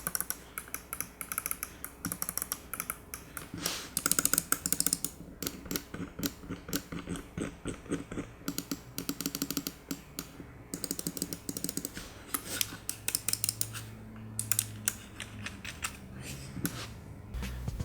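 A Cooler Master MM710 gaming mouse with Omron switches clicks rapidly and close up in quick irregular bursts, a steady stream of sharp little taps with no talking.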